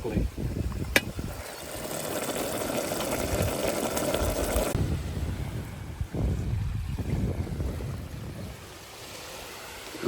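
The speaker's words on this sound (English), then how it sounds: "A little windy this time." Wind gusts buffet the microphone on a white-sand beach in Oman's desert, a broad rushing roar with surf-like noise underneath, easing off partway through.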